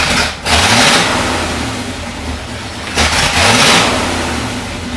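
A 1973 International Harvester Loadstar Blue Bird bus engine runs loudly close by, dipping briefly then revving up twice in strong bursts before settling back into a steady rumbling idle.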